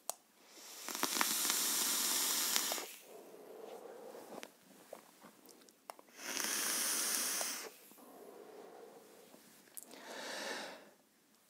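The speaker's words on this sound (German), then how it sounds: "Wir wollen es aber zuerst einmal dampfen." Vapor is drawn through a Bomb Cat RDA dripper atomizer by Acevape with dual-mesh coils: three long, close hissing draws, each followed by softer breathy exhales and small clicks in between.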